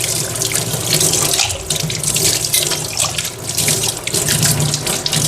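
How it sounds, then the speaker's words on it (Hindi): Glasses and dishes are washed by hand under a steadily running kitchen tap, a loud continuous splashing gush of water that fills the whole stretch, with no voices. "ये गिलास भी धो लिए मैंने"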